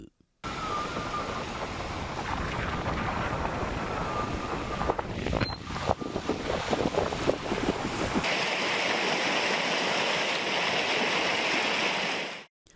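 Floodwater from the swollen Manjal river surging around Athimur village after heavy rain, a continuous rushing, churning roar with wind buffeting the microphone, steady and loud throughout with no talking.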